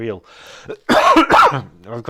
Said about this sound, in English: really bad cough at the moment